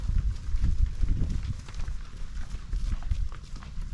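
Many bull hooves thud and clatter irregularly on the ground as a herd moves steadily along, a dense low rumble of trampling without pause.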